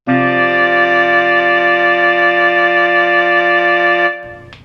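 A single 2 chord from guitar, tenor sax and oboe, oboe on top, held loud and steady for about four seconds before it cuts off abruptly.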